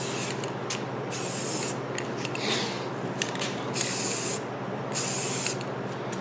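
Spray gun applying smooth, even coats of paint to alloy wheels set on stands, in repeated hissing bursts of a second or so separated by short pauses, close and steady.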